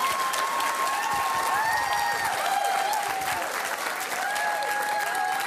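Studio audience applause for a TV show guest, a steady dense wash of clapping sustained throughout, with faint tonal music or whistles riding on top.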